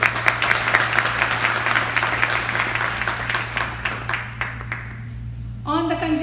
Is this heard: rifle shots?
no